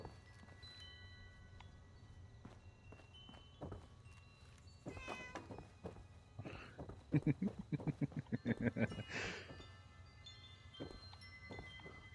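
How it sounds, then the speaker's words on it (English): Cat meowing in a Fallout 76 game, a run of repeated meows mid-clip over quiet ambient background and faint game sounds. "I heard the damn cat again"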